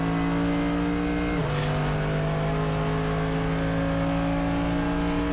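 A race car on a push lap is heard from onboard, with its engine holding a loud, steady tonal drone. The pitch steps down once in a quick shift, then slowly climbs again.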